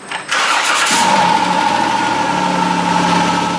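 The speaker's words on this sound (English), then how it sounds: "So let's go ahead and start the engine," Dodge Caravan with a 3.3L engine cranking briefly, catching, and settling into a steady, even idle close by, with a faint whine running over the smooth hum.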